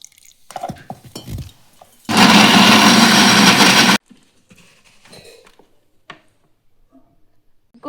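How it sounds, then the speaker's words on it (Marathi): A mixer grinder whirs loudly for about two seconds, grinding roasted onion and coconut with a little water, between softer kitchen clatter and faint talk before and after. "मिक्सरमध्ये वाटून घेते"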